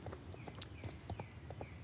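Horse hooves clip-clop in the Star Stable Online video game, a Jorvik Wild horse walking in a steady rhythm of sharp, fairly quiet hoof knocks with a soft ambient bed beneath.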